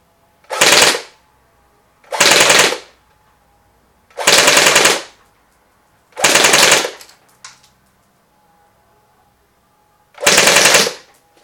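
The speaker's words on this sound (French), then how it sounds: "je vais donc tout simplement appuyer à fond sur la détente pour pouvoir tirer en full automatique" A Steyr AUG A1 airsoft replica fires on full automatic in five separate short bursts. Each rattling volley is loud and close, with quiet pauses between them.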